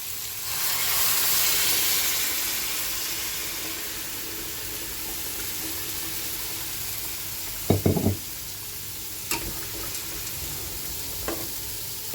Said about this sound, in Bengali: আমি দিয়ে দেবো এখন গরম জল।